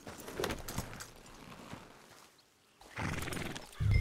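A horse in the Red Dead Redemption 2 video game whinnies and its hooves clip-clop, a neigh near the start followed by quieter shuffling and a louder burst of hoofbeats toward the end, close and clear.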